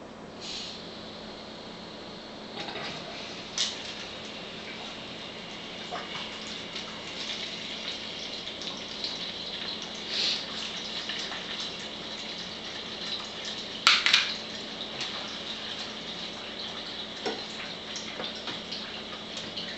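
Alkaline ionized water pours steadily into a container, a continuous close hiss with a few faint clicks and a brief louder splash near the middle.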